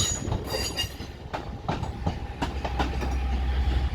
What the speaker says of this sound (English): So pulling in there is a Northern 323